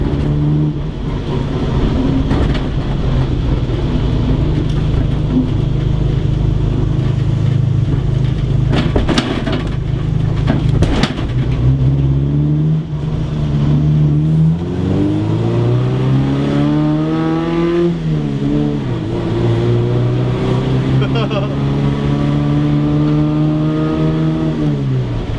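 An old Ford Escort runs steadily under a continuous engine drone, with revs dipping and then rising again through a gear change. The engine pitch climbs smoothly afterward as the car picks up speed.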